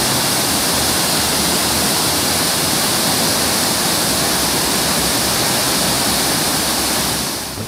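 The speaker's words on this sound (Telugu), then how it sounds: "దీంతో రైవాడ జలాశయం అధికారులు భారీగా నీటిని విడుదల చేస్తున్నారు." Floodwater roars through the opened gates of the Raiwada reservoir dam, a continuous, loud, broadband rush of falling water that holds steady throughout.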